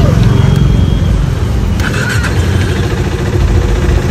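A KTM RC390 motorcycle engine cranks and fires up nearby, settling into a loud, rough idle with a brief high squeal partway through, no clear talk over it.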